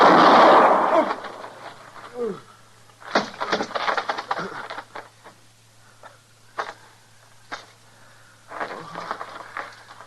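A single loud, close gunshot bursts out in a 1956 Western radio drama, followed by strained voices and scattered bumps.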